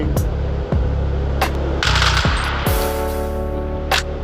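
Rapid bursts of video-game gunfire ring out in Melon Playground, sharp repeated shots and automatic volleys in several clusters with brief gaps, loud and close, with no talk over them.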